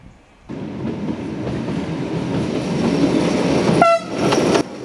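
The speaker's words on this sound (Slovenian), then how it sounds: "Glavna atrakcija seveda ostajajo delujoči oskotirni vlaki, ki privlačijo mlade in stare." A narrow-gauge museum train on the Šargan Eight railway rumbles past loudly with clattering wheels, then sounds its horn in two short blasts near the end.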